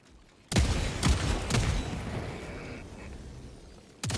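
Sentry cannon fire in the video game Helldivers 2 booms out in a quick series of heavy, loud blasts with rumbling decay, then one more sharp shot at the end.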